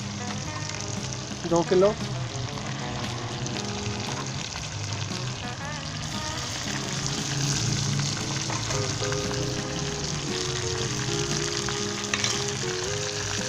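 Chicken sizzles and fries in a karahi for a Cholistani murgh karahi, a steady close crackling hiss with stirring scrapes throughout. Someone speaks briefly near the start.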